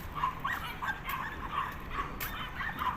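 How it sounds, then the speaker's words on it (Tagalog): Several dogs bark and yip repeatedly at moderate distance outdoors near a reclamation area along Manila Bay, in short irregular bursts over steady background noise. "Kulit ng aso nila, oh."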